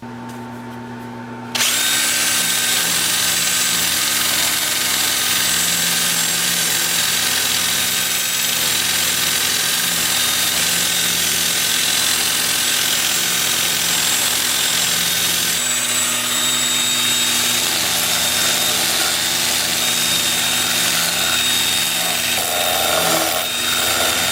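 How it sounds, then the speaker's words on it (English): A 2-inch disc sander at 80 grit runs on a turned wood piece in a steady, loud, close whine that starts abruptly after a quiet second and continues for over twenty seconds, shifting slightly as pressure changes. "I will switch to my 2-inch disc sander at 80 grit"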